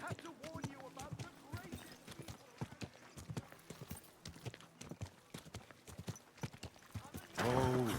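Steady clip-clop of horse hooves trotting in the video game Kingdom Come: Deliverance II, with a short whinny near the end; faint voices murmur underneath.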